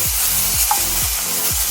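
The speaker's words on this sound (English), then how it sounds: "the soft crabs are cooking and they're just about done on the flip side" Soft-shell crabs fry in a hot pan with a dense, loud, continuous sizzle and crackle, plus faint rhythmic scraping underneath, with no talking.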